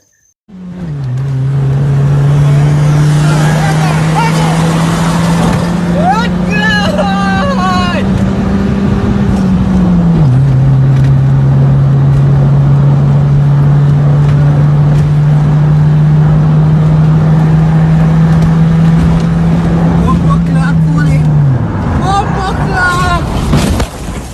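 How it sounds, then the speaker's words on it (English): A speeding car's engine drones loudly and steadily up close, its pitch dropping sharply twice as it shifts, with faint chirping sounds on top. "a vehicle went off road because of speeding"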